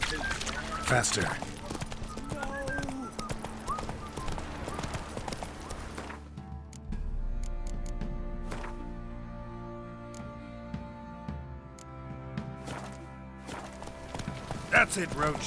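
Horse Roach galloping in The Witcher 3, rhythmic clip-clopping hooves running steadily throughout, with a voice and other game voices speaking over it.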